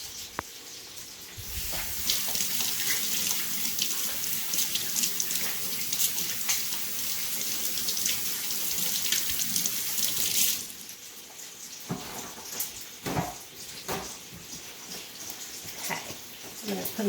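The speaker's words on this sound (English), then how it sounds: "Wash my hands." Tap water runs steadily into a kitchen sink while hands are washed under it, a close rushing splash lasting around ten seconds before shutting off, followed by dripping and handling noises.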